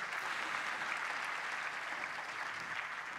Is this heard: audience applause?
yes